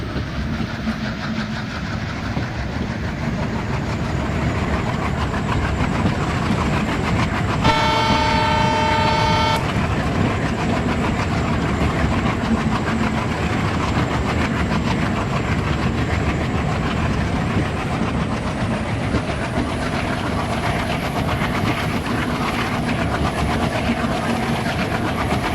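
A dual WDM 3D diesel locomotive hauling an express in a train simulator game, its engine droning loud and steady with rolling wheel rumble throughout, broken near the start by a sustained two-second horn blast.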